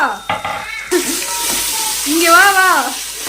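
Tomatoes dropped into a hot frying pan for chicken biryani, a brief clatter and then a soft sizzle that rises and holds under a woman's speech.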